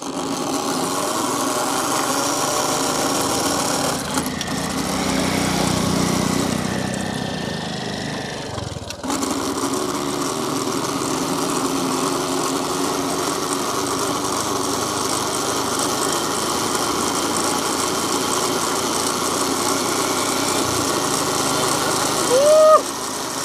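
A homemade bicycle fitted with a motorbike gearbox and engine runs steadily on a test ride, giving a continuous buzzing drone with a brief dip partway through.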